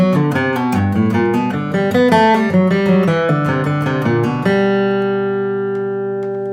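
Acoustic guitar runs a quick bluegrass pentatonic lick at full speed, a rapid stream of picked notes that ends on a ringing chord left to decay, loud and close with no speech.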